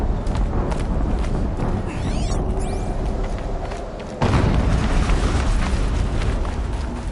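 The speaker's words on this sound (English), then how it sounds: "An explosion." A loud, sustained rumbling blast fills the scene, with a sudden louder surge partway through as a second burst hits, alongside brief whistling streaks; no speech.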